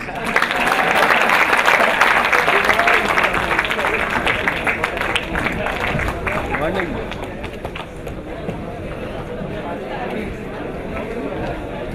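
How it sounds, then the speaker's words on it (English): Audience applause at a talk program led by a psychiatrist, many hands clapping continuously with murmured voices mixed in, steady throughout and easing slightly toward the end. "before you give me a thunderous standing applause"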